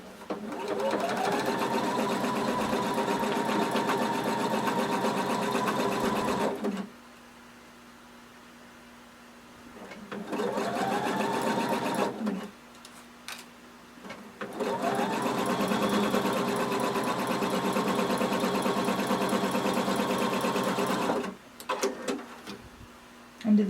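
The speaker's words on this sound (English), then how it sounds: "we're just going to sew these so that they become one" Sewing machine stitching layers of swimsuit fabric together, running in three steady whirring bursts separated by quiet pauses, close and clear.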